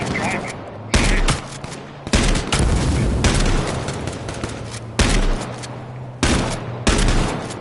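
Repeated bursts of gunfire in the battle-royale video game H1Z1 on PS4, loud sharp shots in irregular clusters over a steady engine-like drone, with a voice talking between volleys.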